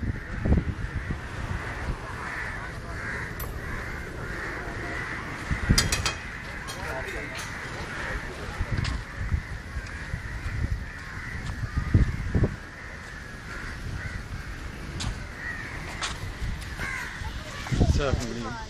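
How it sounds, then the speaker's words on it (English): Crows caw repeatedly around the huge Chinese fishing nets at Cochin, their harsh calls rising over wind and outdoor bustle while people talk throughout. "Full of crows as well."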